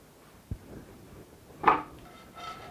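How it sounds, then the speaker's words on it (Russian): Bread cubes, cut into neat little squares, stirred in a dry hot frying pan: a soft tap, then a sharper clatter and scrape of utensil against pan, with a faint rustle after. The sounds are quiet and sparse, with no talking. "Вот так вот мы перемешиваем их и хорошенечко просушиваем."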